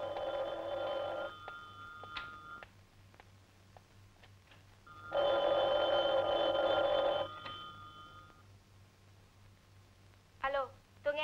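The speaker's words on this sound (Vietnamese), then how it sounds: "Thiếu tá qua phòng nghe điện thoại." Telephone bell ringing in a Vietnamese drama scene, two loud bursts of electronic ringing separated by a quiet pause, close and clear over low background hum.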